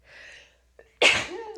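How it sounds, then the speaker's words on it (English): A single close, sharp sneeze, preceded by a quick breathy inhale and a short catch of breath. "I'm going to sneeze."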